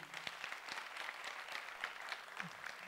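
Sparse applause rises from a few audience members at a stand-up comedy show in Jakarta, faint and distant, a thin patter of scattered claps with no voices over it.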